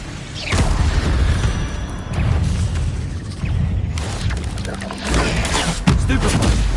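Magical spell effects for Protego, Accio and Incendio in the video game Hogwarts Legacy erupt as several loud booms and crackling bursts, spaced out over a rumbling battle soundscape.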